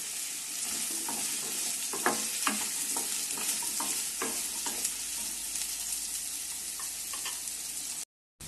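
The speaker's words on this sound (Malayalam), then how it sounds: "ക്യാരറ്റും ഉരുളക്കിഴങ്ങും വഴന്ന് വരുന്നുണ്ട്." Carrots and potatoes fry in a pan, giving a steady close sizzle broken by repeated scraping strokes of a spoon as they are stirred, with no talking, then a short silence near the end.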